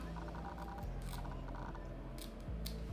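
Faint scissor snips cutting lace wig lace, a few quiet metallic clicks spaced out over a low, steady background hum.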